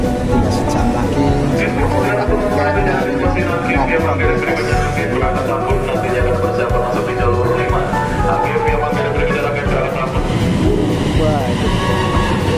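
A train rumbles steadily past the platform at Bekasi station on a rainy Monday morning, a loud continuous roar of wheels and carriages with faint clattering, rain hissing underneath.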